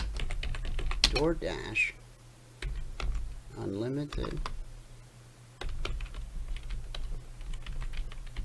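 A loud computer keyboard clatters in rapid typing bursts, close by, with a person talking over it in between.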